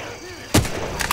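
A single sharp gunshot fired at zombies in Left 4 Dead 2 cracks loudly mid-clip over a steady game background hum, followed by a fainter pop near the end.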